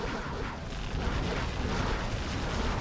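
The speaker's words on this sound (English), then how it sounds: "Particle cannon now inside of Hsn's base." A particle cannon strike in the real-time strategy game Command & Conquer: Generals Zero Hour lands inside an enemy base, giving a dense, sustained roar of blast rumble that stays loud and steady.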